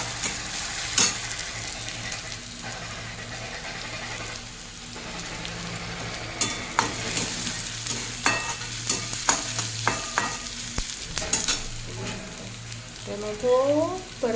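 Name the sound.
tomatoes sautéing in a pan for masala Maggi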